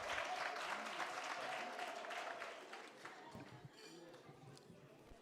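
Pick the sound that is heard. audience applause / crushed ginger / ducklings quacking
audience applause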